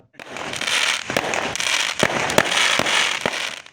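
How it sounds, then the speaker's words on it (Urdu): Fireworks display closing a ceremony at a cattle market fair, a dense crackling barrage of bursts and sharp bangs sustained throughout, loud and continuous without talk. "تقریب کے آخر میں شاندار آتش بازی کا مظاہرہ"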